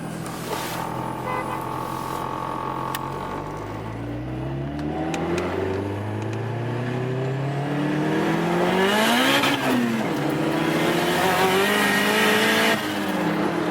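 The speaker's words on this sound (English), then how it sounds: "I'm just gonna do like a regular slow shift pull just to see if there's a difference between slow shifting and power shifting." A turbocharged Honda Civic pulls hard through the gears in a slow-shift run. The loud engine note climbs steadily, drops at each gear change, then climbs again, close and with no talk.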